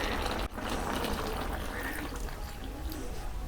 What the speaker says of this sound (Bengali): এক বাটি দুধ দিয়েছি, তারই পরিমাণ এক বাটি জল দিয়ে দেব।